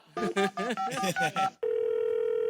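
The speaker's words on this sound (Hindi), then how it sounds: "दूसरे कॉलर को फोन लगाते हैं" A telephone being dialed to call someone: a quick run of about seven distinct keypad tones, then a steady continuous ringback tone that holds to the end, clear and alone.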